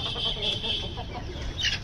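Farm chickens, rooster and hens, cluck and squawk at close range while being fed, a short busy mix of overlapping clucks over a low background rumble.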